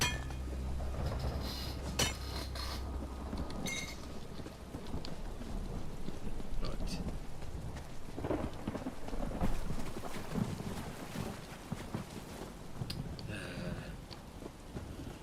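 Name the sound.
rain and thunder weather in video game Elder Scrolls Online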